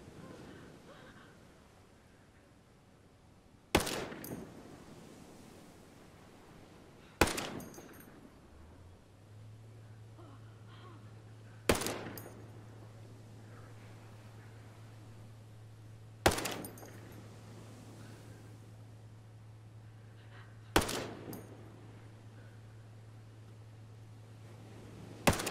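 An unsuppressed SC-20K rifle in Ghost Recon Breakpoint fires five loud single shots spaced a few seconds apart, each with a decaying tail over quiet ambient wind, and a low steady hum joins partway through.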